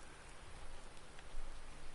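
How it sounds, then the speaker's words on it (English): Steady rain falls in Farming Simulator 19 with Seasons on PS4, playing the Sussex Farm map: a dense, even hiss of drops that holds for the whole stretch with slight swells and no voices over it. "I know it's raining, but I might just cut 13 and 14 anyway."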